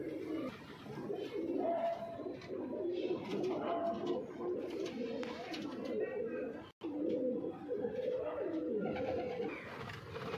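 Pigeons cooing in a loft of Punjabi Malwai pigeons, steady soft coos and murmurs from many birds close by, continuing throughout with a brief dropout partway.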